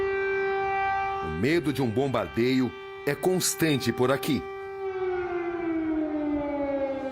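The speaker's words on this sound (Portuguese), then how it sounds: "Uma cidade vazia que tem o silêncio interrompido pelas sirenes." A civil defense air raid siren wails over Kyiv, Ukraine as a steady, loud, sustained tone that slowly falls in pitch at the end. Someone talks over the middle of it.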